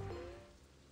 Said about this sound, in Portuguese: olha só, começou a chover